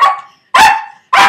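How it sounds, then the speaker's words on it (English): A pet dog barks on command three times in quick succession, loud and close, each bark sharp and short with brief silent gaps between. "They know how to bark on command, especially for food."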